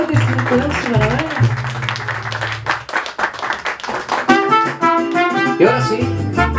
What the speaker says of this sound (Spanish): Fuerte el aplauso, fuerte, fuerte el aplauso